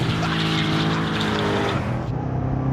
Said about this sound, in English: Already I've converted most of the rear tyres into smoke.